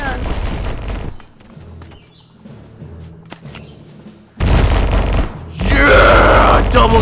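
Double guns firing in the Conker video game, loud rapid bursts of gunfire that cut in after a quieter stretch of game ambience, with a voice shouting over the shots.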